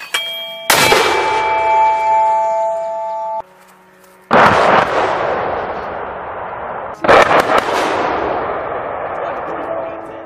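Military guns fire during an exercise: a sharp blast with a long ringing decay, then two more heavy booms spaced a few seconds apart, each rolling off slowly, with a brief quiet gap between the first and second shots.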